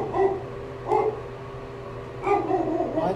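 Dogs indoors bark and yip in short bursts, several barks spaced a second or so apart with a whimpering edge, moderately near, with no voices over them.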